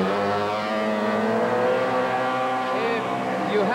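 A 1987 autoslalom race car fitted with a downdraft Weber carburetor roars loudly through a Canadian invitational course, its engine note rising and falling steadily as it rounds a far turn and heads closer.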